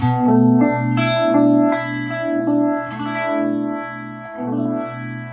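An electric guitar runs through a budget Univibe clone effects pedal, sustained chords with a throbbing, swirling phase modulation, loud and alone.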